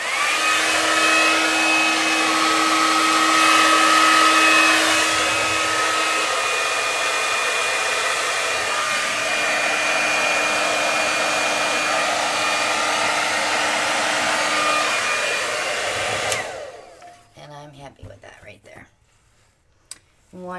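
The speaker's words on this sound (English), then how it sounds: "I'm going to go ahead and go back in with the hairdryer" A hair dryer blows over acrylic paint in a Dutch pour with a steady, loud whooshing roar for about sixteen seconds, then cuts off, leaving a few faint handling noises.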